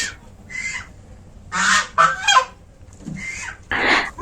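A large domestic goose weighing over three and a half kilograms honks loudly and close by, giving several harsh calls in short, uneven bursts with brief gaps between.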